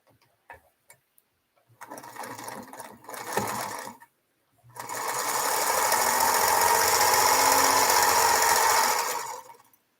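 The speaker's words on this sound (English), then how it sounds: "You got a Janome. You have a fancy machine, Jean." A Janome sewing machine stitches quilt pieces in two runs, first a brief burst, then after a pause a longer, louder, steady mechanical whir lasting several seconds before stopping.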